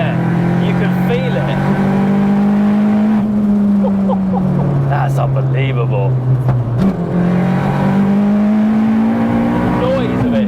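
A turbocharged MK1 Seat Cupra engine revs hard and loud, its pitch climbing, dipping and climbing again over about ten seconds, while people talk over the sustained drone.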